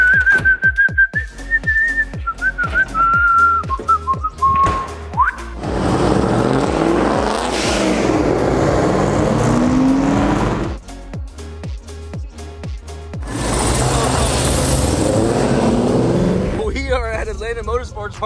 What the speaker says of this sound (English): Got some cars whipping on the track already.